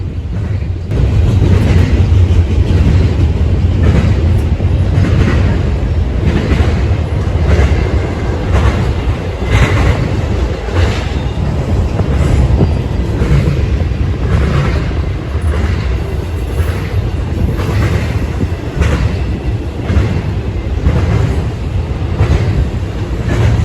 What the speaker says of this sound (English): this eastbound intermodal train on the Norfolk Southern Chicago line, with a pair of BNSF locomotives pulling it